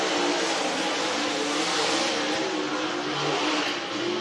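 Race cars roar under the green flag on a dirt track at Whynot Motorsports Park during the Fall Classic, a dense, sustained engine howl of many cars accelerating at once, loud and steady throughout with no break.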